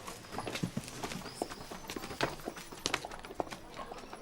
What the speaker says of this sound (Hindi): वो देखो घोड़ा गाड़ी कितना सुंदर है।